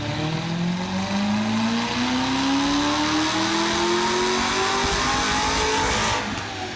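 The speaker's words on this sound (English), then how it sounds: "So stock ZR1 on the dyno." Stock Chevrolet C6 Corvette ZR1 engine revving hard on a dyno, a loud, close roar climbing steadily in pitch through one long pull before cutting off at the end.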